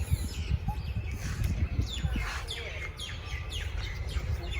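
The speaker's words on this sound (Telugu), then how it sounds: "అంటే చాలా రకాల పక్షులు ఉన్నాయి చూడండి ఈ చెట్లోనే" Several birds chirp and tweet in a tree in a Bangalore garden, with quick repeated calls over a low background rumble.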